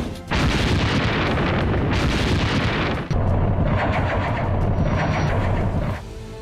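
Russian missile and drone strikes on Kyiv, heavy explosions and rumbling blasts rolling over one another in a dense, continuous barrage, loud and reverberant, with a short lull partway through.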